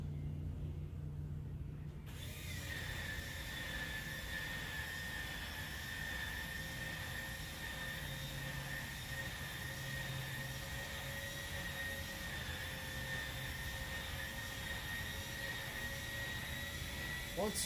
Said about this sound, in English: they do recommend that you hold this down until the motor stops